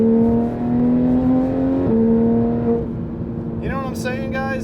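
A 991.1 Porsche 911 GT3 RS engine holding a steady, loud, close droning note that shifts pitch as the car takes a turn, with a voice speaking over it.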